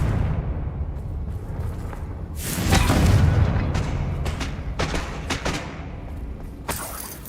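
A Confringo explosion spell from the Hogwarts Legacy video game bursts with a deep boom and shattering crackle around the middle, followed by scattered smaller impacts and a sharp hit near the end, no voices.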